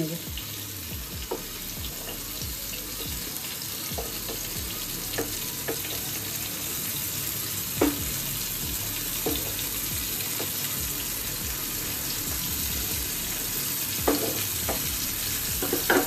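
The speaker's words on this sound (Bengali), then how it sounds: "সব কটা পটলই একটা সাইড হয়ে গেছে আবার অপোজিট সাইডটাও ঠিক এরকমই ভাজা হবে" Pointed gourd (potol) slices frying in oil in a pan, a steady soft sizzle throughout with occasional faint clicks and pops, no one speaking.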